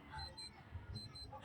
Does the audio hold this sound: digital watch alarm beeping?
yes